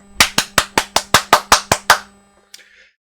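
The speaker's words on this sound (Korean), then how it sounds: "박수!" Nine sharp, evenly spaced hand claps, close and loud, in a quick steady rhythm, followed by a brief faint sound.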